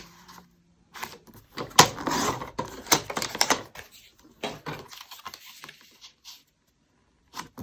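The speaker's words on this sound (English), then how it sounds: "So I'm going to go ahead and cut that at 4 1/4 by 3 1/4." Card-stock paper being trimmed to size on a paper cutter while making a card: a series of sharp clicks, snaps and sliding scrapes in irregular bursts, close and fairly quiet, with gaps of silence between.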